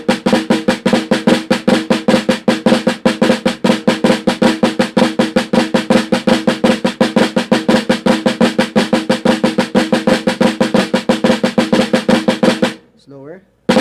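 Drum rudiments, Swiss Army triplets and flam taps, played as a steady, rapid, continuous stream of close strokes that stops abruptly near the end.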